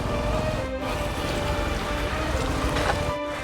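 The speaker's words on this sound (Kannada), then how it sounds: "ಇಷ್ಟು ಮಳೆ ಬರಾಕತೈತಿ" Steady rain falls in a continuous broadband wash with scattered drops, loud and close throughout, with no voices over it.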